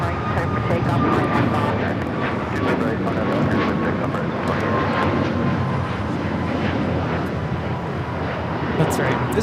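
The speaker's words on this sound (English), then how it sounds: "This is Air Canada 555 taking off to Vancouver on the MAX 8." An Air Canada Boeing 737 MAX 8 jet takes off from LAX, a steady, loud roar of jet engines that holds broad and unbroken the whole time, with wind buffeting and some background chatter mixed in.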